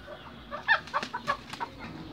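A pair of chickens, a hen and a rooster, cluck and squawk in short uneven bursts at bedtime, squabbling close by with no talk over them.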